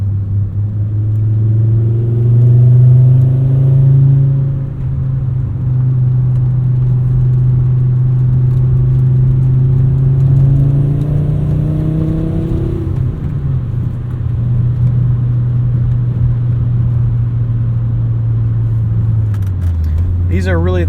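Volvo 850 R driving on a backroad, a steady loud engine drone inside the cabin that rises in pitch under acceleration, eases off, then climbs again.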